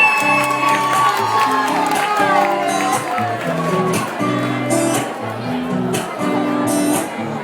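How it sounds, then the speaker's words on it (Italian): Live concert audience on a tour cheering and applauding, a loud, dense crowd roar with shouts and clapping over sustained music and voices. "fatevi un applauso"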